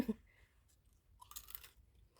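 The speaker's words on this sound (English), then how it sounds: "And you can hear that crunchiness and flavors to your fries as well." Crunchy sweet potato fries are bitten and chewed close to the microphone. A single crisp bite comes first, then quieter chewing follows.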